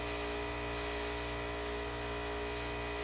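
Steady close hiss of primer being sprayed onto a custom widebody hood for an Eagle Talon 2G, continuous for the whole stretch with slight pulsing as the spray passes, no voices.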